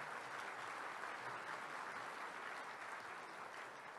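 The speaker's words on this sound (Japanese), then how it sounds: "会場の皆様、どうぞ盛大に拍手をお願いいたします" An audience at a public constitutional forum breaks into sustained, even applause, a dense wash of clapping with no talk over it.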